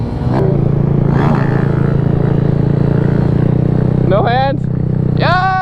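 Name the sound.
Kawasaki dirt bike engine revving during wheelie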